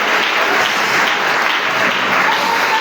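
A church congregation applauds and cheers for Jesus, a dense, steady burst of clapping heard loud and close for the whole stretch.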